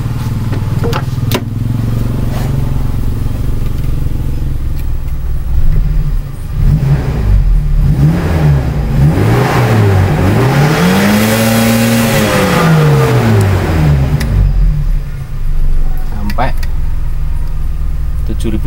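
An old car engine revs after ignition tuning with a TCI unit and platinum point gap adjustment, rising and falling in several strong sweeps over a steady idle, loud and close, with faint talk in the background.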